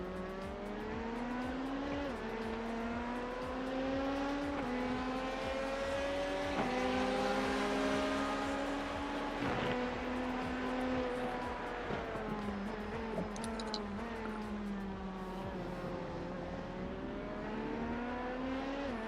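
An LMP2 prototype race car engine in a Daytona 24 Hour racing game, a steady loud drone whose pitch climbs and falls through gear changes, with other cars faintly passing around it.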